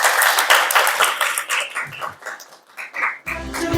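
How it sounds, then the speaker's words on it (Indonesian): A classroom group of students gives a burst of applause, dense quick claps close by that thin out briefly midway before picking up again near the end. "beri tepuk tangan dulu."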